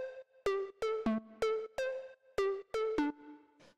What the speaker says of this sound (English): the next thing I have here is this little synth pluck